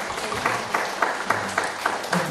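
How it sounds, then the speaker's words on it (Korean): In a Presbyterian seminary worship session, the congregation claps together in a steady rhythmic beat, with sharp unison claps coming about three to four times a second over a wash of hall noise. "박수 건다고 박수 치네"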